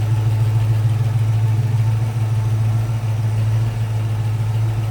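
A 1964 Chevrolet C10 regular cab Stepside short-box pickup idles smoothly and steadily, a close, loud, even low rumble with no revving.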